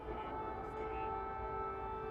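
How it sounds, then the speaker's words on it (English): An air raid siren sounds over Kyiv during the Russian invasion, a faint, steady wailing tone held throughout over low background rumble. "Day 369 of the Russian invasion began with the blare of an air raid siren"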